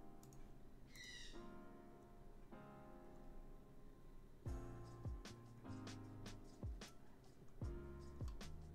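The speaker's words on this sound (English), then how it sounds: "Oh god, it's going off now. The bird is going off." A bird calls in short repeated bursts, faint and distant, amid low background noise.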